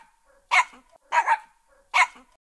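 Three sharp, loud dog barks come close by at roughly even intervals, with soft whining and whimpering in the quiet gaps between them.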